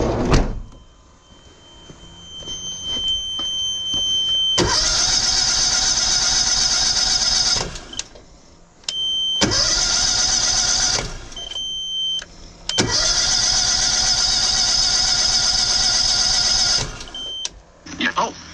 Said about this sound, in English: I've tried starting the Honda and I think it might be flooded